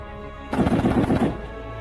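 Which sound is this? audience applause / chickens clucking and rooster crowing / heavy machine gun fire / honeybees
heavy machine gun fire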